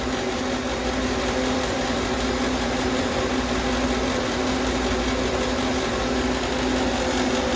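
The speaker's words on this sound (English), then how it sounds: "The compressor hasn't cut out yet." The compressor of a homemade air conditioner runs with a steady, even hum and a broad noisy hiss, continuous and unchanging throughout at moderate level.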